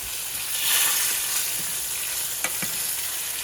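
Flounder fries in a pan with a loud, continuous hissing sizzle that swells slightly near the start, punctuated by a couple of small pops.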